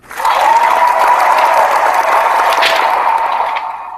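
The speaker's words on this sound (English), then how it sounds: "So round of applause for that." A loud burst of crowd applause rises quickly on a tennis fan podcast, holding as dense, even clapping for several seconds before beginning to fade.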